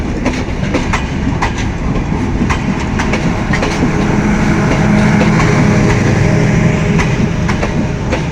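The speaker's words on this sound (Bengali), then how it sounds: "রাজশাহী থেকে ছেড়ে আসা ট্রেনটি অল্প কিছুক্ষণের মধ্যে জয়দেবপুর স্টেশনে দাঁড়াবে" A passenger train from Rajshahi approaches Joydevpur station with a loud, continuous rumble and rhythmic clickety-clack of wheels over rail joints, with no talking.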